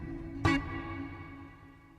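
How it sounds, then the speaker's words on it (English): A single bright synth hit in 80s style, passed through delay, echo and reverb units, blooms out and then trails away in a long washy decay with no voices. "It's like delay, then echo, then reverb"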